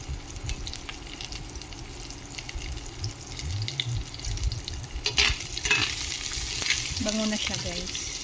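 Onion sautéing in a pan for ginisang patola, a steady sizzle that swells louder midway with stirring scrapes, and a brief voice near the end.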